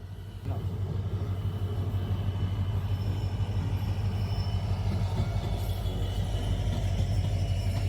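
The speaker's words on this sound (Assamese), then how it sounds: "এতিয়া ৰেল আহি আছে" A steady, heavy low rumble of a train rolling past nearby, constant throughout with faint higher rattling on top.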